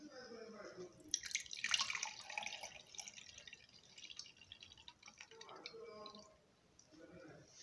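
Guava leaf water is strained through a strainer into a glass cup, making faint dripping and trickling with a louder splashing pour early on, set in a quiet indoor space.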